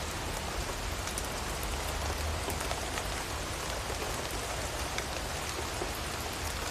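Steady rain pours down on an outdoor film set, a dense, even hiss of drops hitting surfaces with no voices.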